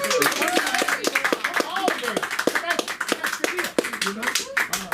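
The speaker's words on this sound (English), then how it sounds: "Give him a round of applause." Scattered audience clapping at a comedy open mic, uneven and fairly close, with a person talking over it throughout.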